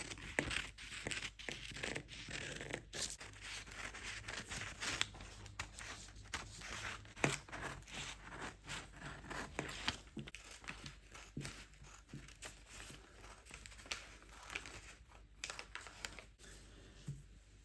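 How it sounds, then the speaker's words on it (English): Fabric being cut out for a corset back yoke with a Queen Anne neckline, giving a steady run of close, crisp snipping and rustling scrapes with no talk. "Then you cut the yoke out."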